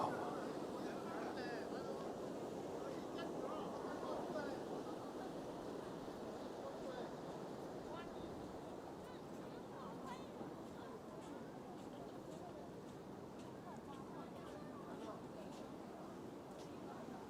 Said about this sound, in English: Yes, the sound of water.